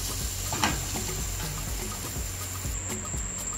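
Oil and butter heat in a saucepan, giving a steady close sizzle with scattered small pops and crackles throughout, no one speaking.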